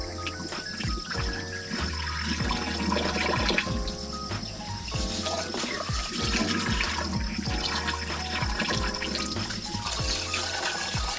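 Water running steadily while rice is washed at a solo campsite in Bukidnon, a continuous splashing flow with small clinks and knocks throughout, close and fairly loud, with no talking.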